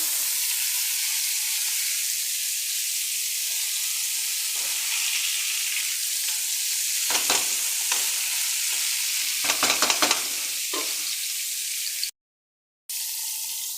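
Hilsa fish frying in a pan and being stirred, a steady sizzle with clustered scraping stir strokes near the middle and end, broken by a brief dropout near the end; no talk.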